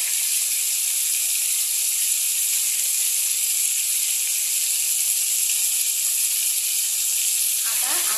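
Chopped ginger and garlic hit a hot pan and give off a loud, steady, even hiss that runs unbroken from start to end, with no talking over it.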